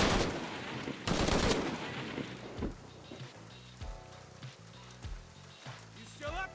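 Bursts of gunfire from a firefight in the video game Shadow of the Tomb Raider, loud sharp blasts early on that give way to softer shots under game music and voices.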